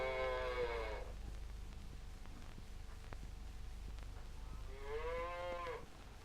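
Cattle on a collective farm mooing, two long, loud, drawn-out calls separated by a quiet stretch over a low, steady rumble, with no one talking.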